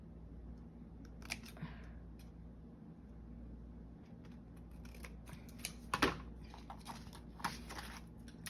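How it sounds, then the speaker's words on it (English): Scissors snip into a paper envelope during a craft session, giving a few soft, quiet cuts and clicks over faint steady background noise. "I cut just that little spot where it starts to angle in."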